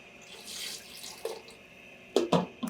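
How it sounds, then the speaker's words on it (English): Water pours into a cooking pot holding potatoes and carrots during a chef's cooking demonstration: a soft running hiss at first, then a few close, distinct splashes near the end. "Add your water."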